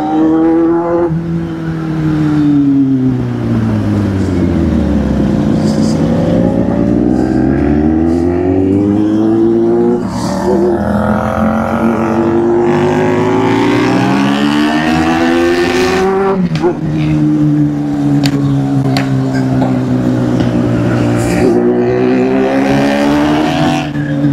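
Kawasaki, Hyosung and Dominar motorcycles racing, with loud, close engines revving hard in rising and falling sweeps, throttles climbing and easing as the bikes push on together, and faint voices now and then.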